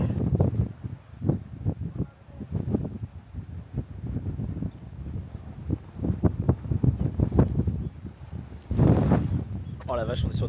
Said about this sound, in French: Oh la vache, on est sur des bonnes bourrasques là quand même.